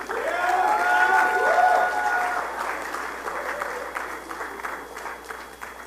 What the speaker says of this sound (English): Give yourselves a round of applause for being an amazing audience.